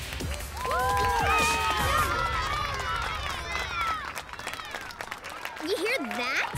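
Cartoon crowd cheering and applauding at a dance performance, loud and continuous throughout, with high excited voices whooping over a dense wash of clapping.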